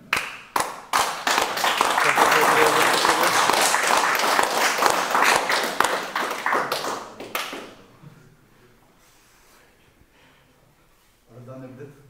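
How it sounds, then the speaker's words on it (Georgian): An audience at a fight club face-off event bursts into loud, sustained clapping and applause that fades after several seconds, followed by quiet and then a voice speaking. "აპლოდისმენტები ვიტევს."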